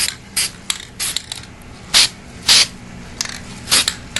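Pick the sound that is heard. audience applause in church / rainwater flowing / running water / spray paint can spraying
spray paint can spraying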